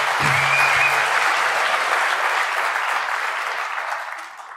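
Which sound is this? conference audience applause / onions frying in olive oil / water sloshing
conference audience applause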